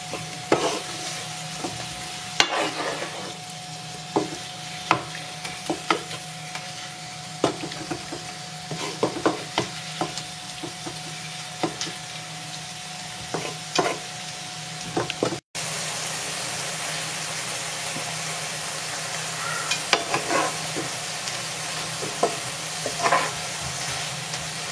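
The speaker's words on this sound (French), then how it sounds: "Je mélange bien comme il faut." Chicken and mushroom filling frying in a pan, a continuous sizzle broken by frequent scraping stirs of a utensil, steady and close for the whole stretch.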